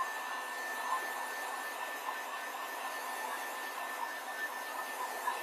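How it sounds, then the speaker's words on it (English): A heat tool blows steadily while a wood spindle flag is being worked on, a constant close airy whoosh with a faint high whine, alone with no talk. "Okay, more heat tool noise."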